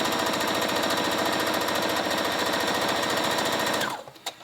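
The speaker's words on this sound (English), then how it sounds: "And that's how you're gonna top stitch that split." A sewing machine runs steadily and fast while top stitching the split of a jogger skirt, its rapid even clatter holding for about four seconds before stopping abruptly with a couple of small clicks.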